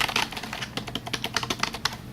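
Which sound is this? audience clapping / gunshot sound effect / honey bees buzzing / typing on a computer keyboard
typing on a computer keyboard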